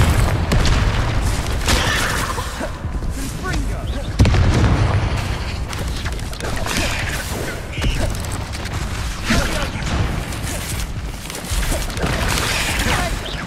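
Explosions from the Confringo fire spell in Hogwarts Legacy, a series of loud booming blasts and crashes over dense battle noise, one especially sharp hit near the middle, with a voice talking throughout.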